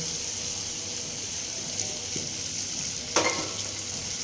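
Steady hot-oil sizzle of onions frying as tempering for mustard greens (saag), a constant hiss throughout with a sharp clink of a utensil near the end; no voices.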